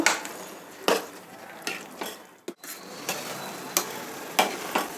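A spoon or spatula scraping and stirring a thick vegetable sagu curry in a pan on the stove, with periodic strokes against the pan over a soft background sizzle.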